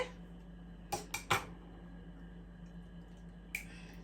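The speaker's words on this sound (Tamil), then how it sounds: "இப்போ நான் இந்த முட்டையை உடைச்சி" Eggs being cracked open for vanilla cake batter: three quick sharp shell taps close together, then a lone fourth crack a couple of seconds later, over a quiet kitchen hum.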